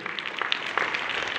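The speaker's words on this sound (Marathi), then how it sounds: "जोरदार टाळ्या वाजवून त्याचं अभिनंदन करायचं आहे।" Applause for a student at a school award ceremony, a steady dense patter of many hands clapping together, close and fairly loud, with no voices.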